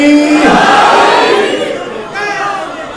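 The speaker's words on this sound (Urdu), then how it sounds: "اونچا نعرہ حیدری" A crowd at a Shia majlis gathering during a noha recitation roars the Nara-e-Haidari slogan in unison. The loud massed shout is close and fades over about three seconds.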